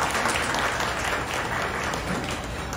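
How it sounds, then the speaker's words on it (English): Dense, loud applause from a crowd at a fundraiser concert for the Maryland Psychiatric Research Center, a continuous wash of clapping that holds steady throughout. "let's please give another round of applause to Ryan and his incredible work"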